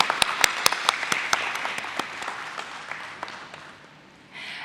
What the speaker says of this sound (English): A big round of applause for all our dignitaries, please.